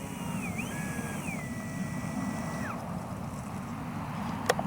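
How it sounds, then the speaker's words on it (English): Skynetic XCub RC plane motor in flight, a faint electric whine that glides up and down in pitch as the throttle changes, over steady wind and outdoor rumble, ending with a brief sharp click. "Motor is nice."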